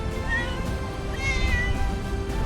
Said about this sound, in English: walking through quiet alleys with the usual and famous Istanbul cats